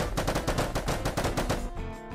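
Rapid automatic gunfire in Minecraft, fired at a lucky block, as a steady burst of close, loud shots that cuts off near the end with a faint tail.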